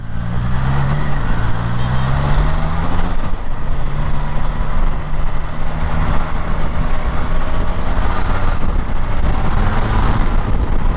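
A 2022 Triumph Tiger Sport 660 motorcycle pulls away from a standstill in third gear, its engine a steady, loud drone with rising tones under heavy wind rush throughout.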